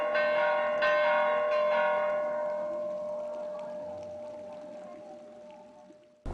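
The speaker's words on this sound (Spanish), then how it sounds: "durante las grandes festividades que conmemora la Iglesia suenan todas las campanas como señal de" Church bells ring out for a major church festival, several struck tones layered at first, then a long resonant hum slowly fading away.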